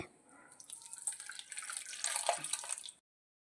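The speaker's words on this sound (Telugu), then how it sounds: "2 నీళ్ళు పోసి ఉప్పు వేసి లిట్లో వేసి స్టవ్ మీద అయితే పెట్టేస్తా ఒక విజిల్కి" Water is poured into a pot on the stove along with salt, making a steady splashing, trickling rush that builds for about three seconds and then stops abruptly.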